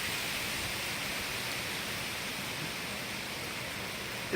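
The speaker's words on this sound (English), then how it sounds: "Here it comes. The wind, the rain." Wind and rain on a rainy autumn day outdoors, a steady broadband rush of gusting air and falling rain at an even level, with no talking.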